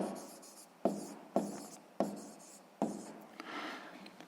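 A pen scratches across paper while working a sixth-grade maths exercise, in four or five close bursts of quiet strokes with brief pauses, the last stretch rougher and denser.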